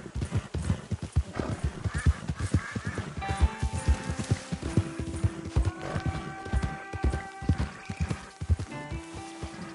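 Rhythmic clip-clop of horse hooves at a steady gait in Red Dead Redemption 2, with a horse neighing partway through and sustained musical tones underneath.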